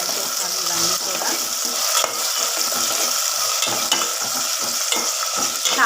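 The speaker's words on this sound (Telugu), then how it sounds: "పచ్చిమిర్చి ఎక్కువ వేసుకోవాలి అండ్ కరివేపాకు. సో లైట్గా ఫ్రై చేసుకోవాలి ఇవన్నీ కూడా." Green chilies and curry leaves fry in hot oil in a pan, making a loud, continuous sizzle and crackle with faint stirring scrapes throughout.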